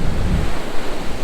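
Ocean surf washing onto a beach in Da Nang, Vietnam, a steady broad rush of waves mixed with wind buffeting the microphone, continuous and fairly loud with no voices.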